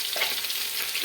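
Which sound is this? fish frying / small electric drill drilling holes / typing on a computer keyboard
fish frying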